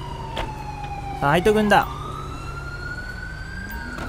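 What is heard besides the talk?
emergency vehicle sirens at crash scene in GTA5 video game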